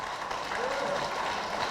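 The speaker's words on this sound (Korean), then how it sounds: "감사하죠? 박수 한번." A seminar audience breaks into soft, steady applause, a continuous patter of clapping with a voice briefly heard over it.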